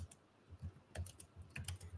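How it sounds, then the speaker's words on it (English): Quick, irregular taps on a computer keyboard, close and fairly quiet, with a few keys struck in brief clusters and short pauses between them. "Hope this is not too noisy typing."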